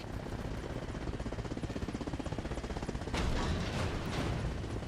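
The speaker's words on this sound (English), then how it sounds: "Guys, do you not hear the explosions?" Rapid rhythmic firing rattles continuously, then a heavier blast erupts midway, followed by rumbling explosions and crackling in a busy battle in the video game Arma Reforger.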